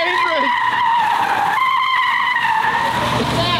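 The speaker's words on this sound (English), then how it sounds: "Listen, there's a car coming. It's the ultimate donut machine, I'm told." A car spins donuts, its tires screeching in a loud, continuous, high-pitched squeal that holds steady for several seconds, with engine drone underneath and faint voices in the background.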